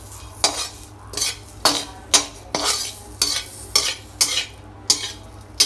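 A spoon scrapes through panjiri mixture in a pan on a low gas flame, making about eight rhythmic, close scraping strokes with short pauses between them.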